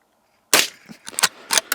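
A gunshot cracks out sharply at a one-inch target during solo winter camping in eastern Oregon, then a few quick sharp follow-up clicks and clatters ring out nearby.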